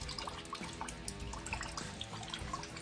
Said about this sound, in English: I'm draining the block